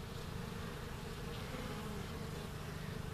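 Honey bees buzz in a dense, continuous drone from an open hive during an inspection, the hive full of nectar. The sound is close, steady and unbroken, with no talking.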